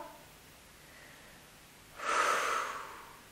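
Breathing during a standing Pilates exercise: quiet room tone, then one close, audible breath lasting about a second, a soft airy rush through the nose or mouth.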